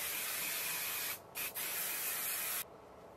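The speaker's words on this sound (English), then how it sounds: "I'm taking this Cake the Hold Out Flexi Hold hairspray," Cake The Hold Out Flexi Hold hairspray sprayed onto a custom wig, a close, loud continuous hiss from an aerosol can with two brief breaks, then stopping.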